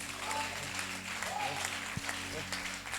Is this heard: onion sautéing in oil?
no